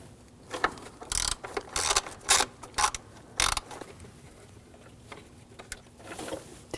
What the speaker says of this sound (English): Underneath there's a bracket, and you're going to take these bolts out. Use a T30 socket.